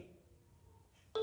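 A short ringtone preview plays on a Vivo mobile phone: a faint tone fades, then a brief, louder beep-like chime sounds near the end.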